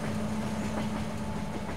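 A train rolls past in the Farming Simulator 22 video game, a steady dense rumble with a low hum and faint rhythmic clatter, continuous and moderately loud with no talking.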